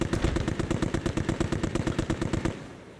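Rapid automatic gunfire in the Modern Warfare video game on Rebirth Island, a close, loud burst of about two dozen evenly spaced shots over two and a half seconds before cutting off.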